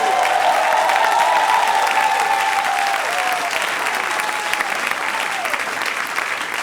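A church congregation claps steadily, the applause loud and dense from start to finish, with a few faint cheering voices riding over it.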